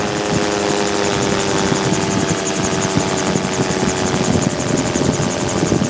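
A Magni M16 gyrocopter in flight on practice circuits, its engine and rotor making a loud, steady droning roar with a rhythmic chop that fills the whole stretch without a break.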